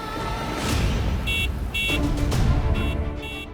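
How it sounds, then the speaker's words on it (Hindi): A car horn sounding outside a house in a series of short honks in close pairs, cutting sharply through an ongoing background of music and ambient noise. "गाड़ी के हॉर्न की आवाज कहाँ से आ रही है"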